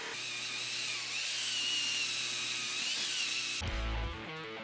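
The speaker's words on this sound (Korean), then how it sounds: "도착과 동시에 정확한 싱크대의 수치를 측정한 후 재단 작업을 진행합니다" A power tool cuts an artificial marble countertop for a kitchen sink cabinet, a steady high-pitched whine that runs for several seconds before cutting off into lower clattering.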